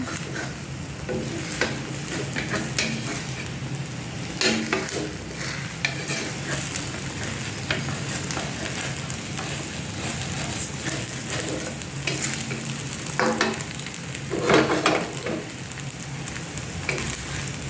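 A Thai omelette with minced pork fries in a pan of hot oil, a continuous close sizzle broken by bursts of louder crackling and scraping as it is stirred and pushed around.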